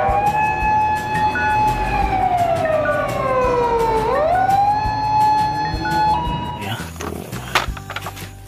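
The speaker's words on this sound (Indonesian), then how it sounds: "Kali ini mobil damkar ya" A toy fire truck plays a loud electronic siren that wails up and down in long sweeping tones. Toward the end it is cut off by clattering handling noises.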